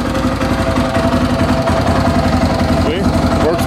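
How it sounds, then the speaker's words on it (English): A motorcycle engine idles with a steady, lumpy putter close by, while a person talks over it. "Hope you can hear me over the engine."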